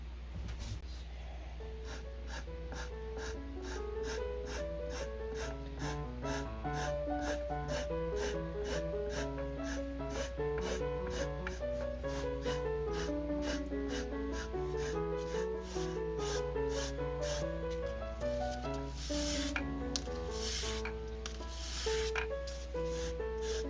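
Felt piano hammers being reshaped by hand sanding, a soft repeated rubbing scratch in steady strokes beneath sustained piano tones and a low hum, fairly quiet and close.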